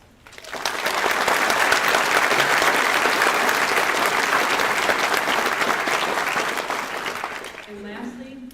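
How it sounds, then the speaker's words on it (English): Audience at an employee recognition ceremony breaks into loud, sustained applause that swells quickly, holds for several seconds, then fades as a voice begins speaking. "I just want to give them a round of applause"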